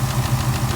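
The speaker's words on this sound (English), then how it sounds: "this is just normal idling noises right here." A 2018 Ford Mustang engine with direct and port injection idles close by, giving a steady, even low rumble with a faint rapid ticking texture and no voices.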